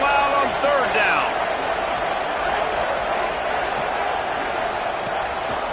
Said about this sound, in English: this crowd bearing down and getting loud on 3rd down